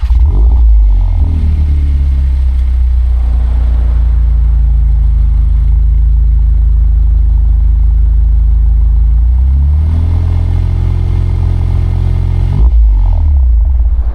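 A loud, deep Volkswagen MK8.5 Golf R engine with an aftermarket exhaust rumbles close by, revving up in rising sweeps, holding, then dropping back with a throaty burble between pulls.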